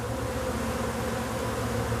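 Honeybees from a swarm confined with a likely unmated queen, making a steady, quiet, even hum that holds without a break.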